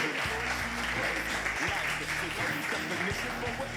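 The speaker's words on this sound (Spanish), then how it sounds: "Un fuerte aplauso." Dense, sustained applause from an audience fills the space, steady and fairly loud throughout with voices mixed into the clapping.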